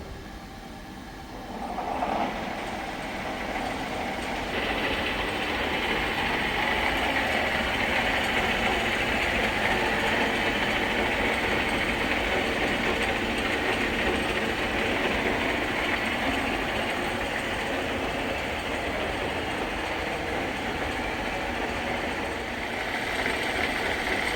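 A metal lathe cuts a heavy-duty steel part with a CNMG insert at about 40 RPM, producing a steady machine drone and cutting hiss that swells after a couple of seconds and holds without talk.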